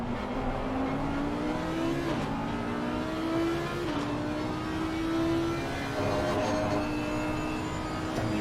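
Racing car engines in Assetto Corsa Competizione, a Porsche among them, on a race around the Circuit of the Americas, drone steadily and loudly with rising and shifting engine tones over about eight seconds, several cars blending together, no talk.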